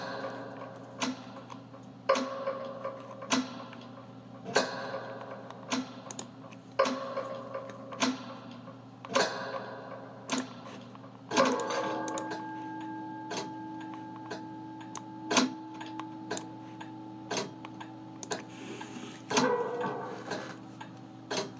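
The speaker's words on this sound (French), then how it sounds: "Le son des horloges t'attire." Steady mechanical clock ticks repeat at a regular pace, several overlapping clocks sounding close and clear over a low constant hum, with a brief whirring chime-like tone partway through.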